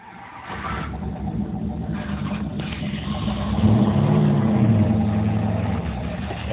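Mopar 383 V8 in a shop truck revs steadily up and holds a loud, rising roar before easing slightly, close by with no talk.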